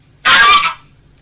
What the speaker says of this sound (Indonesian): Angsa ini berteriak cukup keras.